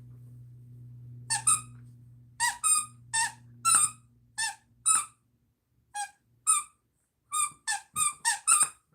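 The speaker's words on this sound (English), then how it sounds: "I have my squeaky bone here." A squeaky toy bone is squeezed repeatedly in quick bursts, about fifteen high, rubbery squeaks in irregular clusters, close to the microphone over a low background hum.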